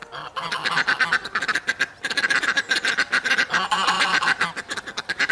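Poultry, including ducks, squabble noisily with geese in a farmyard pen, a near, continuous chorus of overlapping quacks and honks with a brief lull partway through.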